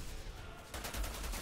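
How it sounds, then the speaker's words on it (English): Enemies firing in the shooter game Outriders, a steady rapid stream of automatic shots that grows louder and denser partway through, set against constant game background noise. "Oh, they're shooting something."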